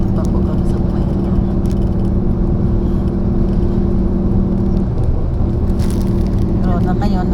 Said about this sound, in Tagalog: nandito kami sa sasakyan, tumatakbo